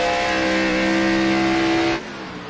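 Race cars in a MidSouth Madness playoff race in a racing video game, a loud sustained engine whine with steady tonal pitch that cuts off abruptly near the end, leaving quieter background engine noise.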